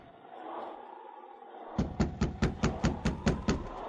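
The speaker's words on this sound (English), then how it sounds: "he stood knocking on the cabin door." A knock on a cabin door in a 1950 radio drama, Challenge of the Yukon: about nine firm, evenly spaced raps, close and clear, following a stretch of soft background hum.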